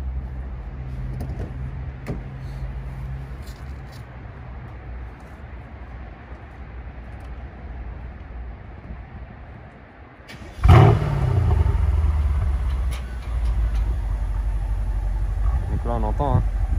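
A Mercedes S63 AMG engine fires up suddenly after about ten seconds of quiet background hum, then settles into a loud, deep, steady idle.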